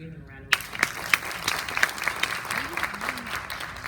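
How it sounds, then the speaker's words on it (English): An audience breaks into sustained applause for Mr. Alden McDonald Jr. at a talk on African American financial institutions, clapping that starts abruptly and keeps up, with a few voices over it. "So let's give him a round of applause"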